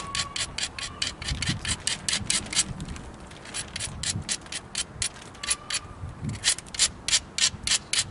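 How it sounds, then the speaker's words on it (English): Rhythmic abrasive strokes from grinding a flint point, a steady back-and-forth scraping with regular repeated passes, close and fairly loud. "I'm going to start off by just grinding everything"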